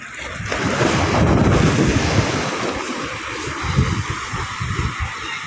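Waves hit the shore, with a broad surging wash that builds, holds and slowly recedes under steady wind noise, close and fairly loud, with no voices.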